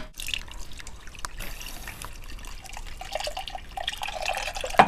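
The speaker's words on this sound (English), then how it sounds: "We pour it into this bucket. This bucket has 2 levels and has a filter in between" Beer mash liquid drains through the filter of a two-level bucket with a barley filter, a continuous trickling, splashing pour with drips, close and steady, no talk.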